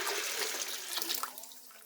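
Melted bouillon is poured into a pot of onions and beans, a soft splashing liquid pour that fades out toward the end, heard quietly and alone.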